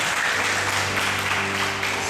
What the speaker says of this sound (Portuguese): Uma salva de palmas para o Marcelo,